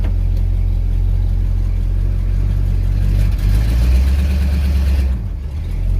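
A 1970 Dodge Charger with a 413 engine and 727 transmission pulling away, its loud, deep engine rumble heard from inside as it rises through gears, with a brief dip in power toward the end.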